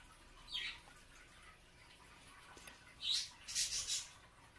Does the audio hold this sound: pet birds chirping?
yes